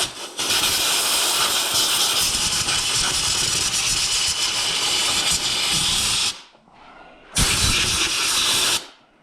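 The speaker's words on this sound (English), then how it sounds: "go ahead and blow that off with some compressed air here" Compressed air blasting debris off a Kubota 2501 tractor. A loud, close, steady hiss runs for about six seconds, cuts out, then returns in a second burst of about a second and a half.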